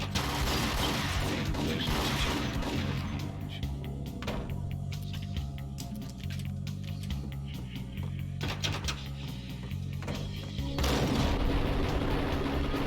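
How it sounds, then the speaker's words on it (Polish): A magazine is emptied in a gunfight in Max Payne (2001). Loud rapid gunshots crack and clatter over game music, with a pause in the middle before another heavy burst near the end. "Niech on sobie najpierw wystrzela ten magazynek."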